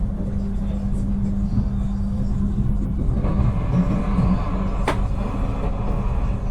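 Malabar passenger train pulling out of a station on Java's southern line, a steady low rumble with engine drone and a brief sharp squeal or hiss near the end, heard close by.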